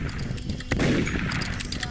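Gunfire from a first-person shooter video game, several shots with a sharp burst near the middle over continuous game background noise.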